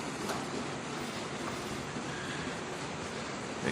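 Rain drumming on a house roof beside a creek, a soft, even hiss of countless drops that holds steady throughout, heard from indoors.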